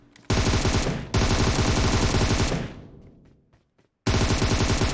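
Automatic gunfire from PUBG Mobile on the Bootcamp map rattles in loud rapid bursts: a short volley, then a longer one that fades out into silence, and a fresh burst breaks in near the end.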